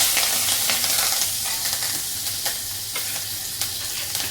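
Curry leaves sizzle and crackle in hot oil as a tempering for yogurt kadhi, a loud, steady bright hiss with sharp pops scattered throughout, close up with no voices.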